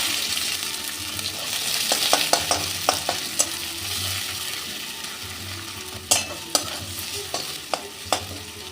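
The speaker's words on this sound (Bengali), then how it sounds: "পেঁয়াজটা একটু লাল করে ভেজে নেব" Onion with cumin seeds, bay leaf and a dried red chilli fries in hot oil, giving a continuous close sizzle broken by sharp clicks and scrapes of a stirring spoon against the pan.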